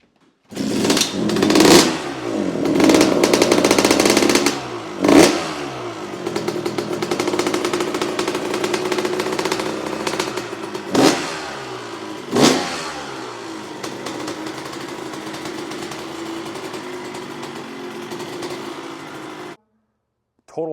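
A 1997 Kawasaki KX125 two-stroke motocross bike revs loudly indoors, its engine rising and falling through several sharp blips and sustained high revs before cutting off near the end, with no talking.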